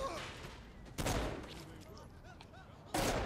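Gunshots in Saints Row IV come in two loud, sharp bursts roughly two seconds apart, with quieter game noise and faint voices between them.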